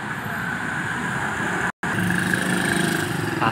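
Diesel engine of a Hino AK8 high-deck bus rumbles steadily close by at a bus terminal, a continuous low drone with a momentary break.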